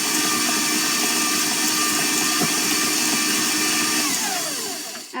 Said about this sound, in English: I'm going to wipe down my paddle, and I'm going to mix this again real quick